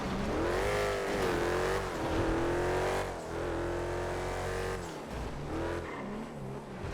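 A car engine drones and revs steadily in GTA FiveM, the tone rising and falling through gear changes as it drives, loud and continuous without talk.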